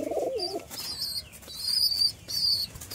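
Pigeons, including red Rajshahi birds, at close range: a low coo at the start, then bursts of wing flapping and bright chirps, with no talk.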